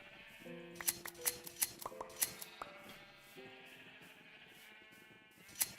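Sheep in a Minecraft sheep room bleat repeatedly, several short overlapping calls scattered across the stretch with sharp clicky accents in between, moderately near and without speech.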